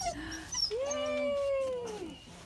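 Dogs whimpering at close range, a long rising and falling whine with a higher yelp near the start, thin and tonal with no talk over it.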